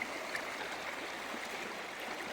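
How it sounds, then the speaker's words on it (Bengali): Hill river water streaming steadily over and between rocks before the monsoon, a continuous close rushing wash with no voices. "যেখান দিয়ে পাচ্ছে সেখান দিয়েই জল বেরিয়ে আসছে"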